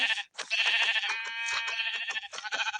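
Sheep bleating in Minecraft, a run of repeated nasal bleats close up and fairly loud with brief gaps between calls, no talk over them.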